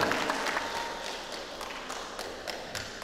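Audience at a school choir contest clapping to welcome a participating group, a moderate, fairly far-off patter of applause that thins out gradually over about three seconds.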